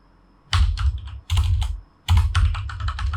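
Keys clatter on a computer keyboard during login-page design work in Figma, three close bursts of rapid typing separated by brief pauses.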